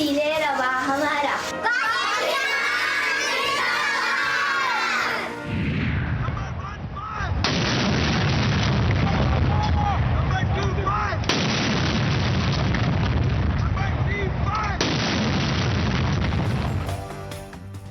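A 31-gun cannon salute for Independence Day in Islamabad booms out in a series of heavy, reverberant blasts, preceded by children's voices and with voices heard between the shots.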